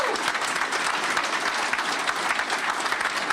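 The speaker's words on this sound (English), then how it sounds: "go ahead, you can applaud" A large audience applauds steadily throughout at a Google announcement of two new data center campuses in Columbus and Lancaster, Ohio, with a dense, even clapping texture that carries at constant loudness with no talk over it.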